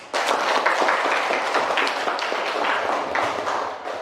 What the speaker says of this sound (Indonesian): Kita berikan tepuk tangan untuk Alga.